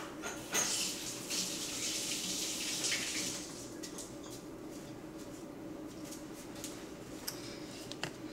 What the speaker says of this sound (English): Wash my hands, it's so sticky.